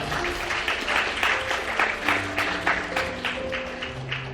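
Applause from wedding guests, clapping with a lively pulse, while music plays softly underneath.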